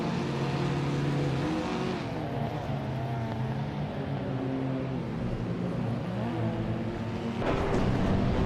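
Race cars at the Chicago Street Circuit, a 1978 BMW M1 leading the pack, roar steadily with layered engine tones rising and shifting as the field accelerates, loud and close throughout with no voices.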